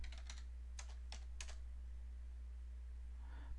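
Short burst of keystrokes on a computer keyboard while entering a fake username in a telnet login, a few quick clicks in the first second and a half followed by quiet hum.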